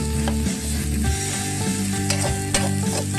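Spicy frog curry is stir-fried in a pan with kaffir lime leaves, sliced chilies and fresh green peppercorns, giving a steady sizzle broken by scraping stirs and the clink of a utensil, with no talking.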